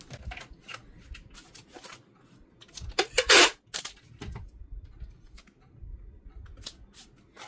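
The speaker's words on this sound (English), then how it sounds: "I'm gonna use packing tape here." Packing tape is ripped and pressed onto a handmade glue book, giving scattered sharp crackles and taps with one loud tearing pull in the middle, close up and without talk.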